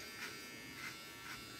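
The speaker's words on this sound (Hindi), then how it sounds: "ट्रिमर पकड़ने नहीं आ रहा" An electric beard trimmer buzzes steadily at close range, its whine swelling slightly in three regular pulses as it moves over the beard, with no talking.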